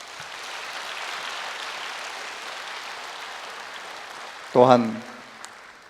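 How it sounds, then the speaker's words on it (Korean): Audience applause for a guest at a 15th-anniversary happiness-sharing talk show, a steady broad wash of clapping lasting several seconds before a brief spoken word cuts in near the end. "오늘 이 자리에 해주신 우리 이진용 사장님께 축하의 박수를 좀 보내주십시오"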